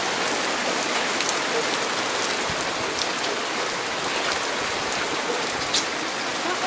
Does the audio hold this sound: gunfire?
no